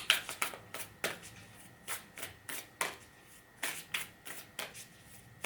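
A deck of cards is shuffled in a series of quick riffling bursts with short pauses between them, close and fairly soft, with no talking.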